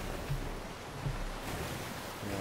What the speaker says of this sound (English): Yeah, big waves. Big waves.